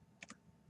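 Computer keyboard typing a command into a Linux terminal during a VirtualBox guest setup: a few quick, close key clicks in a short burst, with a final keystroke near the end, on a quiet background.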